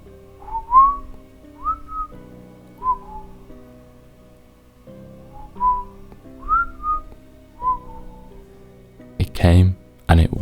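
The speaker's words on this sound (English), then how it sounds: "we heard the whistling" Eerie whistled phrases drift through the night, short rising and falling notes repeating in a slow, uneven melody over a low murmur, ending in a sudden loud burst of noise.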